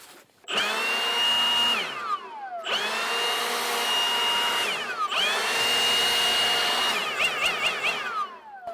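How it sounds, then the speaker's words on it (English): An industrial air blowgun hisses in three long, loud blasts close by, each tapering off, then a few short quick puffs at the end. "Our industrial blowgun."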